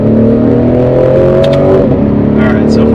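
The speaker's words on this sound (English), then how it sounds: "5-liter V8, naturally aspirated, sounds amazing." A 2017 Lexus RC F with a 5-liter naturally aspirated V8 revs loudly and close, its engine tone rising then dipping steadily, with someone speaking over the noise.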